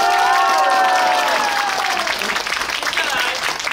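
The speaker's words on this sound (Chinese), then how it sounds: "可以再给我一点掌声吗？" Outdoor crowd applause and cheering at a crystal ball juggling performance during a rainy Taichung Spring Festival traditional arts event, loud and sustained throughout with a few high whistles or shouts early on.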